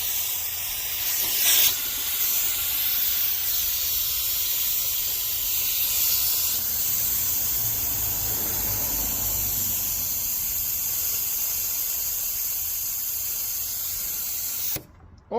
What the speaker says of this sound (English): open the compressor valve and the venturi